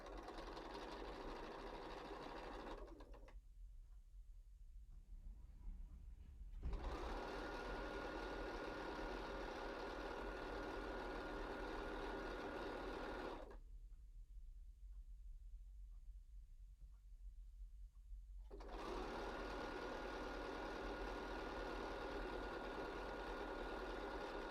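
A sewing machine runs a quarter-inch seam on a pillow in long steady stretches of whirring motor, with two pauses of several seconds, then resumes for a sustained run.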